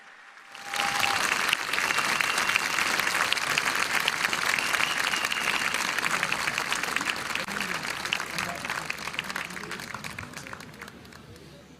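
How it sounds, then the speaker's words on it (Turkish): An audience at a Hrant Dink commemoration applauds for Çiğdem Mater: the clapping rises sharply after a brief quiet start into a loud, sustained ovation of many hands, then gradually thins and fades toward the end. "Çiğdem Mater için hep beraber alkışlayalım arkadaşlar"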